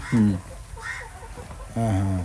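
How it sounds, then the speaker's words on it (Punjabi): Two short bursts of clucking from free-range desi hens kept with a peahen, a pause of quiet background between them, fairly close and moderately loud. "ਇੱਕ ਮੋਰਨੀ ਫਿਰਦੀ ਹੈ, ਬਾਕੀ ਦੇਸੀ ਮੁਰਗੀਆਂ"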